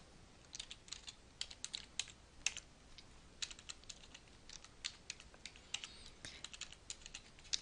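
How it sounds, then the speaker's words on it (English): Keys clatter on a computer keyboard as a username is entered, quick irregular clicks in short bursts with brief pauses, close and fairly quiet, no voices. "And then we're going to type in our username."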